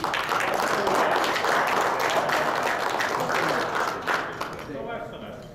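A press conference audience claps for fighter Brian Vera, a thick burst of applause holding steady for several seconds before fading, with talking rising underneath as it dies down.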